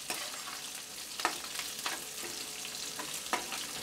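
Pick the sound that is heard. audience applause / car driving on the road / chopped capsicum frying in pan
chopped capsicum frying in pan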